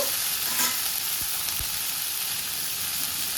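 Ingredients for butter chicken fry in a pan, giving a steady, close, dense sizzle with a few light scrapes of stirring.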